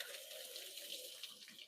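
Tap water running steadily into a kitchen sink while a potato is rinsed under it, a soft continuous hiss at low level with no talk.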